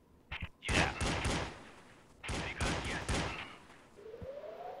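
Bursts of video game gunfire in D.I.R.T. Project, with two loud clusters of rapid shots separated by a short pause, followed by a rising electronic tone near the end.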